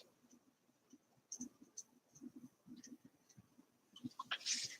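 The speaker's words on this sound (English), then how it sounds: "And we'll erase this here." Faint scratchy rubbing of an eraser on paper in a quiet room, coming in short uneven strokes, with a brighter rasp near the end.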